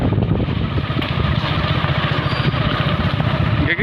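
A motorbike engine rumbles steadily at close range, a continuous low chugging idle held throughout, with faint speech in the background.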